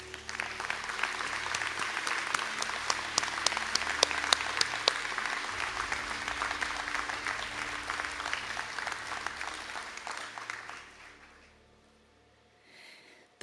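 An audience at a graduate conferring ceremony gives a steady round of applause, dense and sustained for about ten seconds before fading out, followed by near silence and a brief faint sound at the end.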